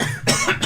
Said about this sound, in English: was a legitimate cough, actually.